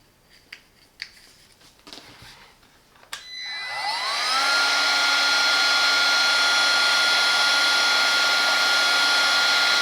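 Parkside 20V Performance cordless heat gun with a reflector nozzle, fitted for shrinking tubing, switches on after a few faint handling clicks and then blows a steady, loud whooshing hiss with a high whine that holds unbroken to the end.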